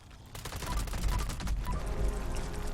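Rapid gunfire from a fire-rate 10mm pistol in the video game Fallout 76 cracks in a fast, dense volley of shots, loud and close.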